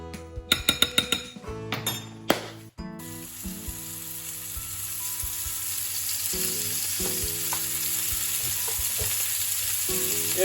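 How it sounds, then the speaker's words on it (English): Floured beef for Mongolian beef clinks and clatters into a hot pan, then a steady, loud sizzle takes over and holds, close by, with occasional light knocks of the utensil and no talk. "See there, we just seared off the meat a little bit."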